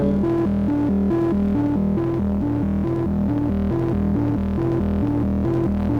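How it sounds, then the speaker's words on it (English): Pulsing synthesizer sine wave tone built from repeating low harmonic steps, loud and steady throughout with a throbbing rhythm, no voices. "we need to do something about the sine wave"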